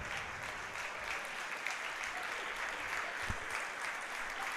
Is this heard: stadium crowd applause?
yes